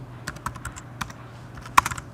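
Typing code on a computer keyboard: a few scattered, crisp key clicks at close range, ending in a sharper cluster of keystrokes, with no speech.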